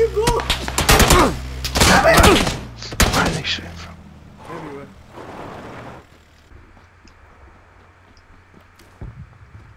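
Gunfire in the PUBG battle royale game, a volley of loud close shots and bursts in the first seconds, then scattered fainter reports as the firing thins out, with voices talking over it.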